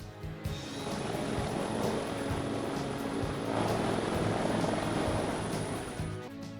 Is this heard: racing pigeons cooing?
no